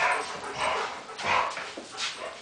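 An old dog of about 12 or 13 years whimpers and gives soft, yipping half-barks in a garage, several short rising cries close by, with no talk over them.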